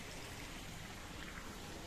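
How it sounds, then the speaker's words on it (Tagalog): Steady, faint rushing of a flowing mountain stream, an even continuous wash with no voices. "Narinig niyo ba yung agos ng tubig?"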